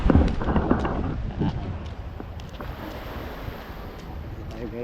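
A strong current of mountain water rushes along a river in Davao in a loud, broad, steady roar, heaviest at the start, with wind buffeting the microphone throughout.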